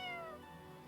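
A single short cat meow in a video game, a clear descending mewing cry that fades out within a second, heard alone without talk.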